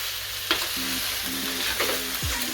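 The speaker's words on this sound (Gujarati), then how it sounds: "હલાવતા રહેવું વચ્ચે વચ્ચે" Brinjal sabji cooks in a pan with a constant sizzle while a utensil stirs it in a few rhythmic, scraping strokes.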